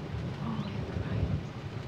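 Low rumbling thunder from a calm, windless storm rolls steadily beneath soft rain, with no gusts of wind, heard as a continuous, moderately loud background for under two seconds.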